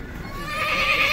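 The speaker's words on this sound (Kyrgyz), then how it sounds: "Мына кара кашка кулун негизи акыйкат" A black foal with a white blaze neighs at a livestock market in Sokuluk, Chüy, giving one drawn-out, rising whinny that grows louder toward the end over faint market background.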